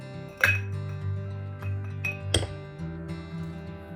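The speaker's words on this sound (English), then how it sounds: "fill up our glass with ice" Ice cubes clinking into a glass while a Red Snapper cocktail of gin and tomato juice is made, with two sharp clattering drops standing out over a steady tonal background hum.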